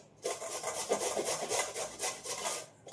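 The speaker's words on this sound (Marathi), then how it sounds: "मी जो लाल भाग आहे तो घेते सगळे किसून घेते" Carrots grated by hand for carrot halwa, a continuous close rasping scrape in quick repeated strokes, steady for a few seconds with no voices.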